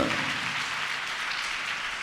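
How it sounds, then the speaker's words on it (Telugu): A church congregation claps loudly, a dense, even wash of applause that holds steady for a couple of seconds with no talking. "చప్పట్ల కొట్టండి గట్టిగా"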